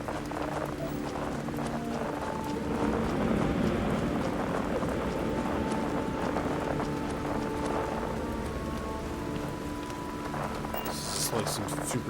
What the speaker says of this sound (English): Like some superheated rain or something.